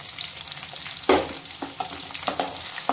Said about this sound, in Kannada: ಎರಡು ನೀಟಾಗಿ ಫ್ರೈ ಆಗುತ್ತೆ